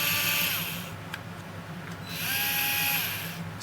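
A DEWALT 4V cordless screwdriver runs in two bursts, a steady high motor whine that winds down between them, the second run at a slightly different pitch.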